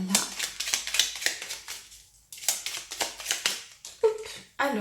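Oracle cards being shuffled by hand, a close run of rapid crisp riffling clicks in quick bursts with a short pause midway, fairly loud and dry.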